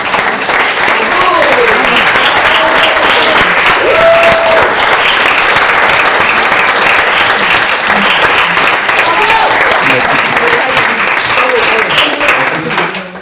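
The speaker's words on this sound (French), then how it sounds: "Vous n'arrêtez pas d'applaudir" A classroom audience applauds at the end of an in-person session, dense sustained clapping that stays loud and steady before tapering off at the end, with brief voices underneath.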